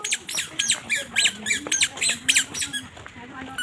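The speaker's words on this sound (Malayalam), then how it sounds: "കിളിക്കുഞ്ഞ് കരയുന്നു." A baby bird chick cries in a series of shrill, repeated squawking calls, close and fairly loud, roughly ten bursts in quick rhythm with brief gaps, over a faint low background.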